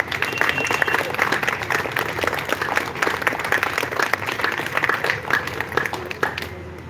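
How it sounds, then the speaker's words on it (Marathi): Sustained, dense audience applause at an award and felicitation ceremony in Latur, with steady, loud, continuous clapping from a large crowd that fades slightly at the end. "आपण यांच्यासाठी जोरदार टाळ्या"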